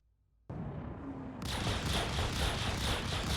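Distortion guns firing from ships in a space video game, a loud continuous pulsing barrage that starts abruptly after a short quiet moment and swells heavier, with no talk.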